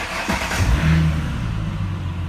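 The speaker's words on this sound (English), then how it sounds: "Let me turn on the vehicle and see what data changes." A vehicle's engine cranks briefly and catches around the first second, then settles into a steady low rumbling idle, close and fairly loud with no talking.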